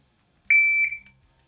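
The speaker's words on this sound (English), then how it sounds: "Oh, and a shot timer right here." A shot timer gives a single loud electronic beep, a steady high tone of about half a second that fades out in a quiet room.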